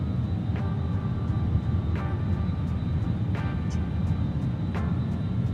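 Cabin engine noise from a BAE 146 airliner in Microsoft Flight Simulator 2020, a steady loud broadband roar with faint periodic clicks, heard toward the quieter rear of the cabin.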